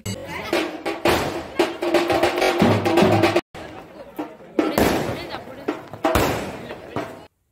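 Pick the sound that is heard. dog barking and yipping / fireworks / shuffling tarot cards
fireworks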